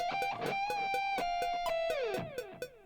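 Plucked electric guitar notes ring out with a delay effect, each note repeating and trailing off, ending with a few sharp picked attacks.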